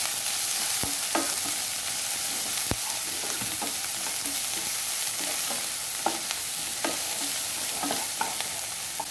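Chopped garlic and shallots sautéing in a hot pan, a steady sizzle broken by repeated sharp scrapes and taps of a spoon stirring, close and alone with no voices.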